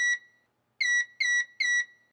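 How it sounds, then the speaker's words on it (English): A Midmark 626 exam chair's electronic beeper sounds one tone, pauses, then beeps three times in quick succession, high-pitched and clear against silence. "Then reconnect the power and wait until the chair beeps 3 times."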